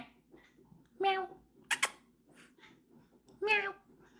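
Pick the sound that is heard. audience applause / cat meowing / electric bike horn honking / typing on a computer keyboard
cat meowing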